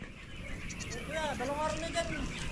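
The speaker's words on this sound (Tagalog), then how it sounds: "kambing na maliit." A small goat on a farm bleats in a wavering, drawn-out cry, with faint outdoor background noise behind it.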